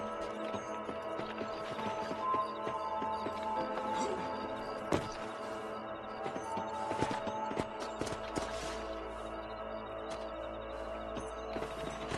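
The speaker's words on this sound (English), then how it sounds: "Let's get back on the horses" Rhythmic hoofbeats of horses trotting over ground in Red Dead Redemption 2, mixed with clanking tack and gear sounds, steady and moderately close, no talking.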